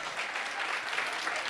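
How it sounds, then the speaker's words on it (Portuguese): An audience at a church conference in Portugal claps steadily to welcome guests, a dense, even wash of applause with no voices over it. "nós queremos recebê-los com um grande aplauso"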